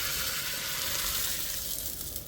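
Coriander and ginger dropped into hot ghee for a tadka crackle in a loud, continuous sizzle, close up and with no talk.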